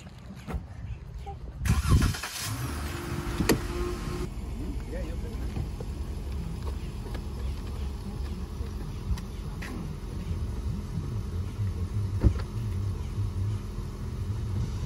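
A rental car engine starts with a brief loud burst, then settles into a steady low rumble of running. Voices talk over the engine noise.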